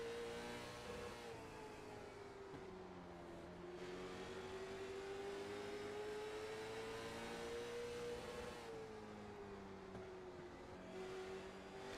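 A short-track race car engine holds a steady drone while the driver works the throttle, the pitch rising and dipping in rhythmic lifts and backing off between corners, continuous and close for the whole stretch.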